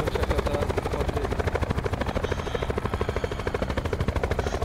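Loud, close helicopter in Call of Duty Black Ops 4, its rotor pulsing in a fast, steady thump over a roaring engine wash throughout.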